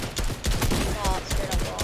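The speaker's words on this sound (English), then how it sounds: "why is he straight up shooting me?" Rapid video game gunfire in a multiplayer match, dense bursts of shots crackling in quick succession across the whole moment, loud and close with a voice briefly mixed in.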